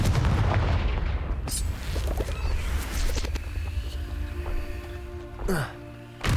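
Confringo fire spell blast in Hogwarts Legacy, a loud rumbling explosion with sustained crackling debris and low booms, followed by a short whooshing magical sweep near the end, no talk.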